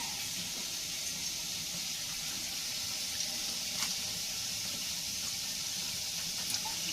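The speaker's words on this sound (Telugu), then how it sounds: "ఇది పెట్టేసి దీనిపైన వాటర్ పోసేసుకుంటాం" Water pours steadily onto a cooking pot lid, a continuous hissing splash lasting several seconds at moderate loudness with no speech.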